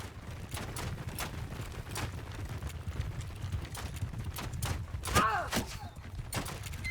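Horses of mounted archers gallop in a Mount & Blade II: Bannerlord battle, a steady drumming clip-clop of many hooves running through the whole stretch with a brief whinny-like cry near the end.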